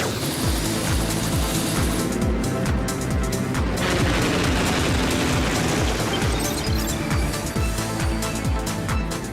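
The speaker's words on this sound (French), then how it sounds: "J'aurais intérêt à camoufler l'hélijet avant d'atterrir sur le toit du laboratoire." The helijet, a cartoon aircraft, roars past continuously with a dense, loud rotor thrum and rhythmic chopping pulses that fill the whole stretch.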